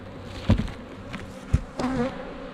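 Honeybees at a graded beehive buzz in a steady drone, with a few close thumps and brief louder buzzing bursts over the constant hum.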